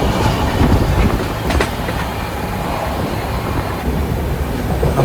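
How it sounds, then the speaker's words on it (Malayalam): The Navajivan Express passenger train, number 12656 running from Chennai to Ahmedabad, rumbles steadily along the rails with a continuous rolling roar and faint rhythmic clatter, heard from on board, with no talking. "അപ്പോൾ നല്ല പിടപെടച്ച് തന്നെയാണ് ട്രെയിൻ പോകുന്നത്"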